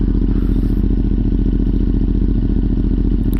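A CF Moto 450MT motorcycle fitted with an aftermarket exhaust idles steadily and loudly up close, giving a full, even, deep rumble with fine regular pulsing throughout.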